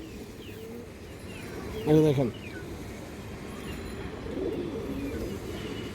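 A silver female pigeon coos softly in the background while someone talks nearby, the low murmuring calls staying faint beneath his voice.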